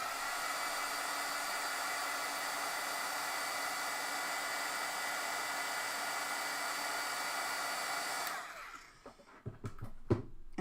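A handheld heat tool blows a steady, loud, rushing roar for about eight seconds while heat-setting ink, then cuts off, leaving faint handling clatter and small knocks close by.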